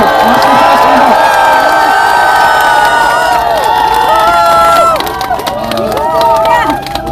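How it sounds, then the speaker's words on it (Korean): A crowd at an outdoor Democratic Party rally in Yangpyeong roars with cheering, whoops and shouting as the party leader is welcomed. The noise is loud and close, with voices calling out, then eases slightly toward the end. "큰 박수로 대표님 모시고 말씀드리겠습니다."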